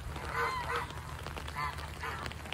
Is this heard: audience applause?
no